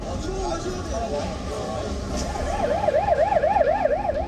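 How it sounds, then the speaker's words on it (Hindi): An ambulance siren wails in a rising and falling pattern, growing louder through the clip over a noisy crowd of voices and traffic after the 2022 Seoul Halloween crowd crush. "लगातार एम्बुलेंस आ रही थी"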